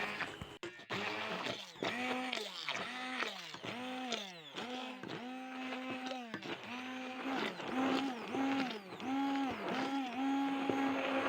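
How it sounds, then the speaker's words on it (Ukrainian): An immersion blender blending spinach pancake batter whirs in repeated pulses, its pitch rising and falling with each burst, close and steady throughout. "Я вирішила збивати погружним блендером, воно і так все гарно збивається"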